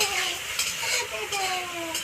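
Spice paste with tomato being stir-fried in a pan for a Folui fish curry, a steady close sizzle broken by scraping stirs, with faint thin tones in the background.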